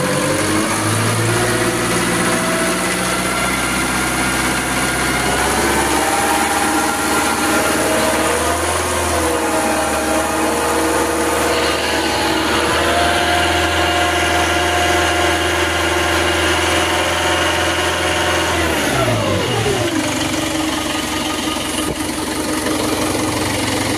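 A Quanchai diesel engine runs steadily, loud and close, revving up to high RPM and dropping back near the end.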